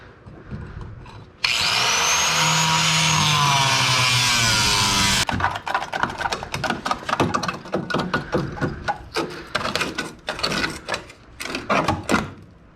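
A power saw cuts through the sheet-metal floor panels of a Datsun 240Z, a loud, steady, close whine for a few seconds. It then gives way to a busy run of clanks and scraping handling noises.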